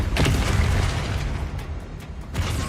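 A booming blast from the Confringo blasting spell in a Harry Potter video game, a loud, close explosion with a deep rumbling low end that rolls on and decays over a few seconds, with no talking.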